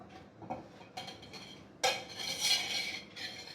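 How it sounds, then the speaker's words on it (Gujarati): Besan (gram flour) roasting in a pan with ghee for modak: a spoon scrapes and clinks against the metal pan in short, uneven bursts, close and fairly soft, with no talking. "પહેલાં આપણે બેસનને શેકી લઈશું"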